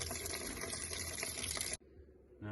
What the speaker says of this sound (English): We'll start by draining all of the coolant out of this tank. So I'll open this valve.